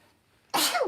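A single sudden, loud sneeze bursts out close by after near silence, sharp at onset and trailing off briefly.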